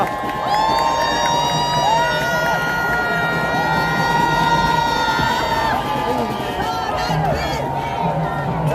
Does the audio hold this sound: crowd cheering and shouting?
yes